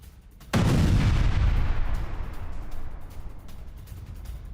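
A landmine explosion in the Russia-Ukraine war erupts as one sudden, loud, deep boom, then a long rumbling decay that fades slowly into background noise.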